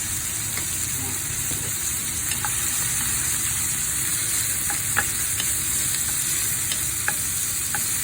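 Seafood and mushrooms sauté in a pan in a steady, close sizzle, with scattered clicks and scrapes of a utensil stirring through the mix.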